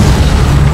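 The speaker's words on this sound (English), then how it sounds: "My ghost just keeps exploding." Ghost vehicle exploding in Halo 4, a single loud, close, deep boom with a rumbling low-end body filling the short moment.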